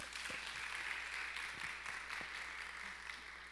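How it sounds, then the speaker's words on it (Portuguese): Applause from a spa-themed talk audience, steady and continuous clapping filling the room at moderate loudness, with no voices over it. "Quero que vocês deem mais uma vez uma salva de palmas, não só para a Sueli, mas como para a Raquel também"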